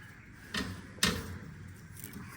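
A small bird cage door is eased open with two short clicks about half a second apart, the second sharper, over a quiet background hiss.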